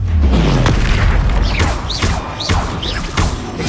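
A Confringo spell blast from Hogwarts Legacy goes off as a loud, heavy boom, followed by a few whooshing magical effects and thuds close by.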